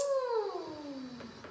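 A cat gives a single drawn-out meow that slides downward in pitch, close by and fairly clear.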